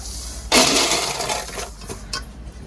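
Hot sand and roasted grains such as chickpeas and peas are tipped out of a pan in one sudden rushing, rattling pour that trails off into scattered trickles and a final clatter.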